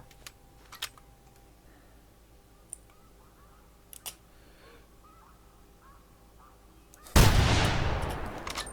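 A single loud rifle shot cracks out near the end during hunting in The Hunter Classic video game, following quiet stretches broken by sparse clicks and taps.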